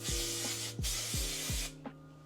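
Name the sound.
hairspray being sprayed on hair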